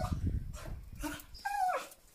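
An energetic dog outdoors on a sunny morning gives a few close yips and whimpering barks, with short bursts separated by brief pauses.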